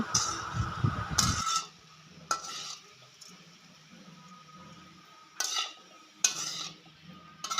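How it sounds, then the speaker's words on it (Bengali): A spoon stirs egg fried rice in a pan over a low gas flame, giving a heavy scraping burst at the start and then sparse, scattered scrapes and clinks over a quiet background. "লো করে রেখে এটাকে ভালো মতন নেড়ে চেড়ে এটাকে মিক্স করে নিয়েছি।"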